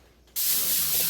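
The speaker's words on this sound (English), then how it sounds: "So you spray the inside of that one, and then put it over hers." Cooking spray hisses from a can into the inside of a casserole bowl, a short loud burst that starts abruptly after a brief quiet moment and sustains steadily to the end.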